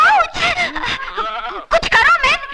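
A goat bleats in a Hindi comedy scene, loud, wavering cries at close range in two bursts that may be a voice imitating the animal.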